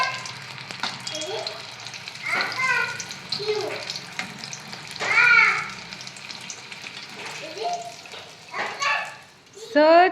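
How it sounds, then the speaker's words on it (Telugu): Onion samosas fry in hot oil with a soft steady bubbling hiss, under someone talking throughout. "ఇవైతే ఒక్కొక్కటిగా ఆయిల్లో వేసేద్దాం."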